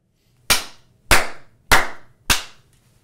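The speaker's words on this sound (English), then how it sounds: "You got a very loud clap." Four very loud, sharp cupped-hand claps, evenly spaced about half a second apart, each ringing briefly in a quiet room with nothing else around them.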